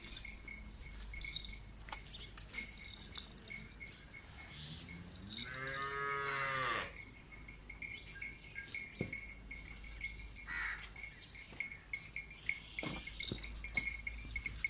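An Australian Friesian cross cow gives one long, drawn-out moo midway through, clear against quiet farmyard background with scattered small knocks and clicks.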